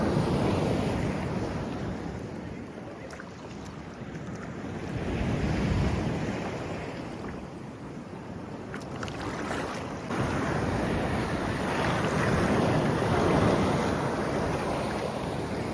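Black Sea waves rolling and breaking on the beach at Karolino-Buhaz, a broad steady roar that swells and recedes, with wind buffeting the microphone.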